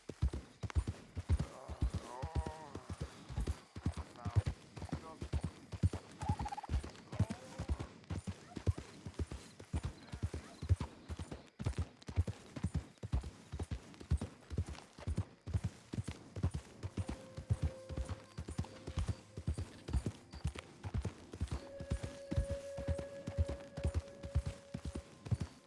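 Steady clip-clopping horse hooves from a ride in Red Dead Redemption 2, a continuous rhythmic trot running throughout with faint ambient game sounds and a few brief tones.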